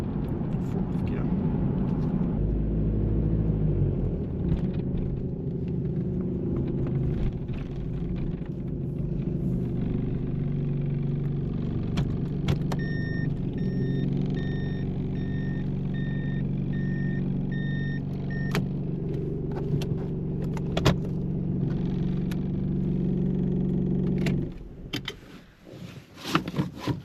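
A 1997 third-generation Toyota Hilux Surf drives in gear on a mountain road, its engine giving a steady low rumble heard from inside the cabin, with a thin beeping tone partway through and a few clunks near the end.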